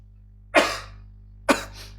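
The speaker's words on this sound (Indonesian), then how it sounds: "Sorry, agak batuk." Two sharp close coughs about a second apart, each trailing off into a brief breathy tail over a quiet steady hum.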